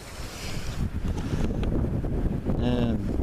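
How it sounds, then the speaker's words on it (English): Harsh, cold, nearly constant wind roars and buffets against the microphone in a low, dense rumble. A brief tonal whistle sounds near the end. "there's like a harsh wind, and it's just about constant"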